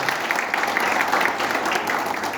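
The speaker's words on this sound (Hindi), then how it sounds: "तो मैं चाहूँगा कि एक बार आप दिल से इनके लिए ताली बजा दीजिए।" Sustained applause from an event audience at a Hindi book launch, a dense, steady wash of clapping at even loudness throughout with no gaps.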